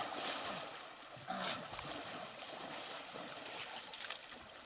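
Steady rushing wash of a river current around a boat on a grayling-fishing trip, continuous and fairly close, with small splashes and trickles and no clear talk.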